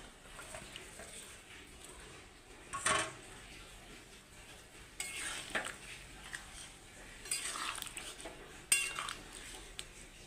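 Potatoes drop into a cooking pot while chicken curry is being prepared, making faint clinks and metallic clatters in several short bursts against a quiet kitchen background.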